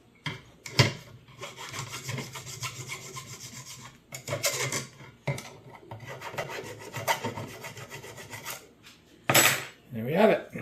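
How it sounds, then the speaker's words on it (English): A hand file rasps over the edges of freshly drilled holes in an RC trailer build, repeated scraping strokes in bursts separated by short pauses, close and clear. "I can now take a file, clean up the edges."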